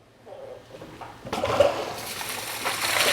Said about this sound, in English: Okay, so now we have straight water going through.